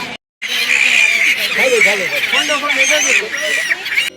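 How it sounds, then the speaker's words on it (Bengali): A flock of waterbirds at the Triveni Sangam in Somnath, Gujarat, honks and calls over one another, loud and near, in a busy, overlapping chorus. "ত্রিবেণী সঙ্গমে প্রচুর পাখি"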